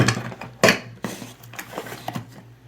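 Stainless steel shower curtain rod parts for a curved rod clink and rattle together, a sharp metallic knock near the start followed by several lighter taps and scrapes, close and fairly loud with no talking.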